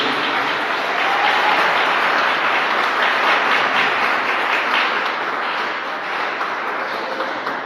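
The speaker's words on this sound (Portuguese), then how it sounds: "Vou pedir mais uma vez que os irmãos dêem uma salva de palmas para Jesus" A church congregation claps together in a dense, sustained round of applause, loud and even from start to finish, with no voices standing out.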